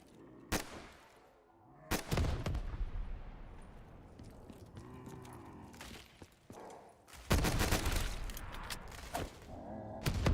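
Zombie-shooter video game gunfire: sharp bursts and rapid volleys of shots crack out in clusters, loud and close, with quieter rumbling stretches between them.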